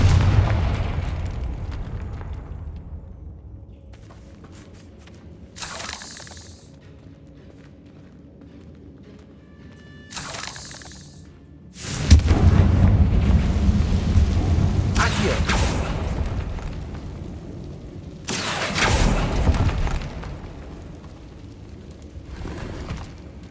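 Fire-spell explosions from the video game Hogwarts Legacy: about five loud, booming blasts burst out at uneven intervals over a low rumbling background.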